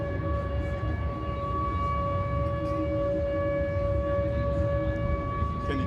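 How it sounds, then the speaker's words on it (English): A stadium horn or siren sounds at gate opening before an Atlanta Falcons versus Carolina Panthers NFL game, one steady tonal wail held for several seconds over crowd and room noise. "They play a really cool horn or siren at the beginning of the game when they open up the gates"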